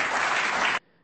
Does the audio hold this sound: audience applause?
yes